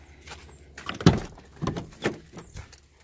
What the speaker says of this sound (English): Let's see if this door will open.